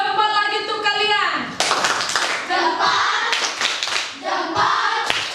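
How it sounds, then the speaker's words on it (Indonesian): Children in a classroom perform a thumbs clapping cheer, rhythmic group claps and taps mixed with voices, with a teacher's sung or spoken lines between bursts of clapping. "kita tepuk jempol lagi untuk kalian"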